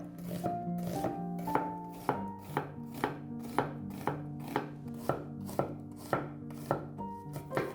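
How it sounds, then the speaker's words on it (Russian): A knife chops an onion on a cutting board in a kitchen, about a dozen crisp, evenly spaced thuds in a steady rhythm, close and fairly quiet, with ground meat frying in the background. "нарежем одну луковицу."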